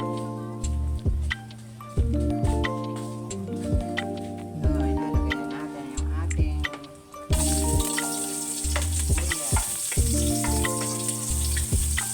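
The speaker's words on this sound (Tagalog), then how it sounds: "Magigisa na tayo ng ating sopas." Sizzling and frying as ingredients for chicken sopas are sautéed in a pan, a steady crackle close by with intermittent clinks of a utensil, under music playing in the background.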